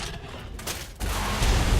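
Gunfire in the video game ARK: Survival Evolved, aimed at a balanced Giga dinosaur in singleplayer, comes as a dull booming burst that swells into a loud, sustained rumbling blast lasting the rest of the moment.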